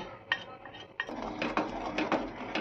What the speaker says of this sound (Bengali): এবার দুধটাকে ভালোভাবে মেশাবো যতক্ষণ না দুধটা টাইট হয়ে আসবে